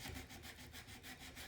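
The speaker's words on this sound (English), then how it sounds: "and I start sanding" A wooden rifle stock for an M98 in 9.3x62 is sanded by hand, a steady rhythmic scratching rasp with even back-and-forth strokes, close and continuous with no talk.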